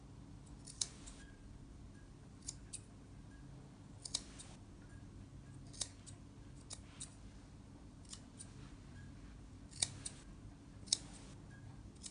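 Scissors trim a Yorkshire terrier's coat during grooming, close and quiet: a series of crisp snips at irregular intervals over a faint steady background hiss, with no talking.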